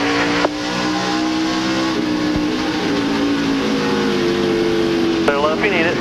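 Onboard engine roar from Chad Little's NASCAR Busch Series car during the 2001 Autolite/Fram 250, a steady loud drone with shifting pitch, briefly revving near the end, with a commentator talking over it throughout.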